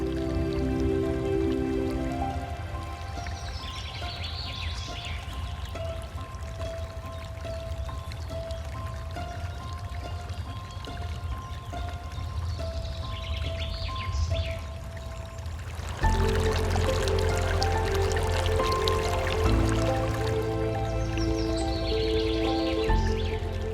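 Rain pours and drips steadily along wooded river paths in Ireland, a continuous wet hiss that thickens noticeably partway through, with tonal sounds running beneath it.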